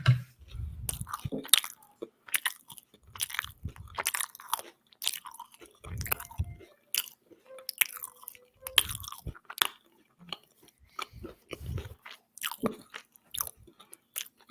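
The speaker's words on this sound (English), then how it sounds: "If you don't like mouth sounds, then it's going to sound disgusting" Close-up ASMR mouth sounds of chewing and biting, with wet crunchy bites and squishy smacks repeating in irregular bursts, loud and near with quiet gaps between.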